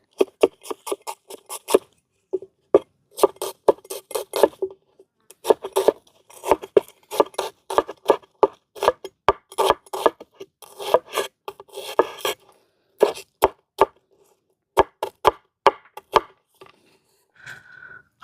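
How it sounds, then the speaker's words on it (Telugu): Onions being chopped with a knife on a board for chicken biryani, a long run of sharp, close taps in quick bursts with short pauses between, crisp and dry with no talk over it. "మనం ముందుగా ఉల్లిపాయలు అయితే కట్ చేసుకుందాం అండి"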